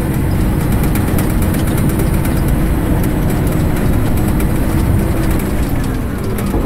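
A Cat D6 dozer engine running at raised idle, a continuous loud, heavy diesel rumble that holds steady throughout, close by and with no talk.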